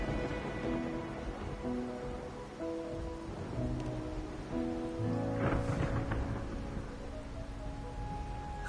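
Steady rain and rolling thunder in the video game Wuthering Waves, with a continuous downpour under a low, sustained rumble and faint tonal music lines running throughout.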